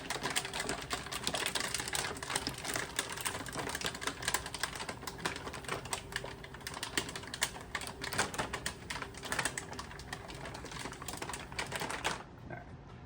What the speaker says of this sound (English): It's okay for it to buckle like that as it's feeding through these rollers.